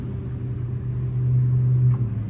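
Idling 1989 Chevrolet C1500 pickup with a new exhaust, a low steady rumble heard close up that swells briefly louder midway, with no voices over it.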